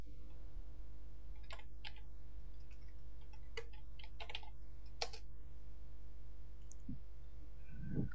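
Keys clatter on a computer keyboard while commands are entered at a DOS prompt, close and fairly quiet, coming in short irregular bursts of clicks separated by pauses over a steady low hum.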